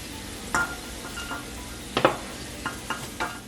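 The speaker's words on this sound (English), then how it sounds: "Now add the garlic. We will be cooking this until it's lightly toasted." Garlic toasting over low heat in a pan, a soft steady sizzle punctuated by several sharp clinks and scrapes of a utensil against the pan, close by and with no one speaking.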